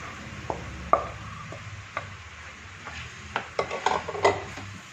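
Boiled, mashed potato and onion masala for masala dosa is stirred in a pan, with irregular spoon scrapes and metallic clinks over a faint sizzle. The clatter grows busier toward the end, and no one talks.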